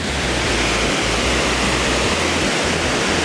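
Water rushing down a stream beneath a wooden footbridge near a cliff in Chiang Mai, a loud, steady broadband roar with no pauses, close by and filling the whole stretch.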